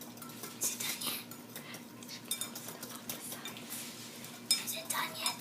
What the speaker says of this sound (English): Just stir it for 2 minutes.